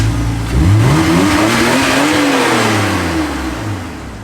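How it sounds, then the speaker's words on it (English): A BMW E46 engine revs hard from a cold start, the pitch climbing and falling through several strong pulls, loud and close with no talking over it. "Listen how sick this thing runs now."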